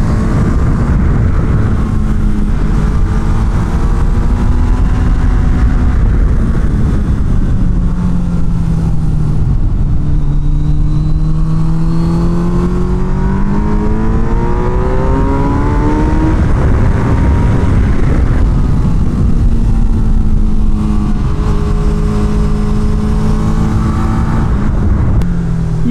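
A Suzuki Hayabusa motorcycle laps a race track on a track day, its engine roaring loud and close throughout, the pitch rising through the gears, dropping on downshifts and climbing again under hard acceleration.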